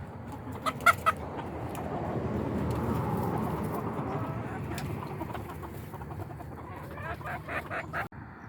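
Backyard chickens clucking in a mid-September garden, a steady low cackle running through with a few sharper clucks and calls near the start and end, moderately close and fairly quiet.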